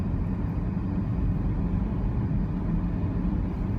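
A small VW camper van on whitewall tyres driving at night, its steady, low engine rumble and road noise holding even and fairly close throughout, with no voices.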